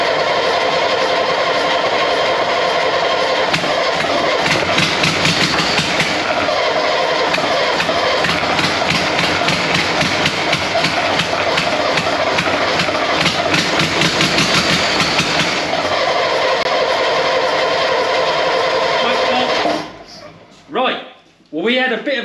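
An 82-year-old truck's engine cranks on a cold start, churning and roaring steadily, rising in intensity partway through, before cutting out abruptly near the end, followed by a few voices.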